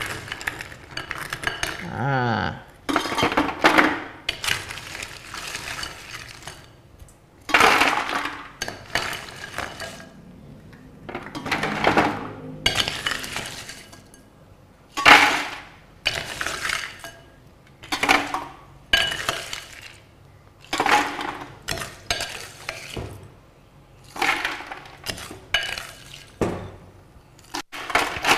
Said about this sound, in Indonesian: Kita isi es batu.